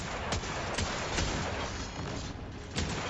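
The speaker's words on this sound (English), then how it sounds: "I almost just keep shooting him with the hand cannon just so that I keep the kinetic tremors going" Hand cannon fire in Destiny 2 during a solo Grandmaster Nightfall, Birthplace of the Vile, with several punchy shots spaced about half a second apart over dense, constant in-game combat noise.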